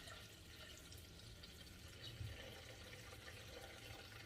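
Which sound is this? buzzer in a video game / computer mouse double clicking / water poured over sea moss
water poured over sea moss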